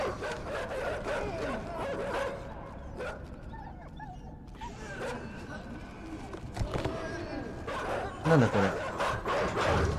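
A dog in the video game INSIDE barks, yips and whimpers in short bursts. Someone talks over the sounds throughout.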